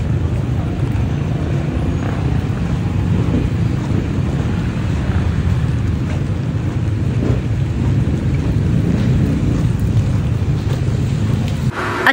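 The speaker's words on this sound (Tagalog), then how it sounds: "At kapag ganitong umuulan guys at malamig ang panahon" Heavy rain pours steadily during Typhoon Enteng with low rumbling that could be thunder and wind buffeting the microphone, a dense, constant wash of noise with no clear breaks.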